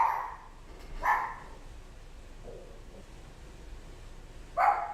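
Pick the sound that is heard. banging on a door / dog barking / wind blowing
dog barking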